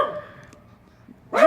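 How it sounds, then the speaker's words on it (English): Pet dogs bark at a neighbour's dog let outside, a loud sudden bark burst at the end after a faint whimpering tone and quiet stretch. "Sorry, I have dogs. You're going to have to hear them on the background."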